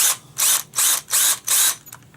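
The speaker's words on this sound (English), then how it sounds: "Using a 1/8 drill bit." A 1/8 drill bit bores through a holster, heard as four evenly spaced, loud bursts of high grinding buzz, each about half a second long, with brief pauses between them and no talking.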